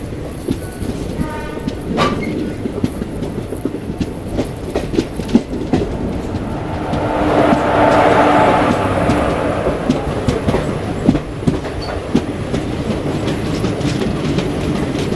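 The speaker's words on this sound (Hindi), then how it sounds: "तो आप लोग इंजॉय कीजिए थोड़े ट्रैक साउंड को" Coromandel Express running on the tracks from Chennai toward Howrah: a steady clickety-clack of wheels over rail joints with a loud rumble, swelling to a brief squealing roar midway, heard alone and close.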